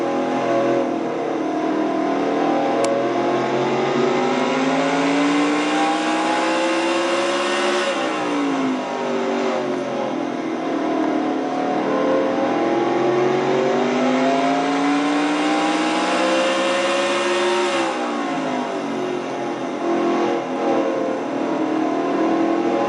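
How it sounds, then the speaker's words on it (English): Onboard a number 4 Kodak Film Chevrolet stock car lapping Martinsville in a racing video game: a loud, steady engine drone that rises through the gears, drops as it slows for a corner, then climbs again, running continuously with no talk. "ride along on board with Joshua Osborne, number 4 Kodak Film Chevrolet"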